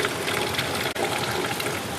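Water pours steadily from a mountain spring where bottles are filled, a continuous broadband rush at close range with no talk over it.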